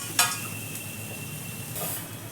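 Khoa drops into a hot pan on a gas stove for coconut and dry fruit barfi, a sharp sizzle flaring at the start and again near the end over a steady low frying hiss.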